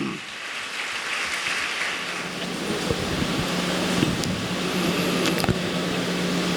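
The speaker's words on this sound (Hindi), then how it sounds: "तालियां बजा के परमेश्वर को धन्यवाद दीजिए।" A church congregation claps together in a continuous, dense wash of applause that swells slightly and carries steadily to the end, fairly loud with room echo.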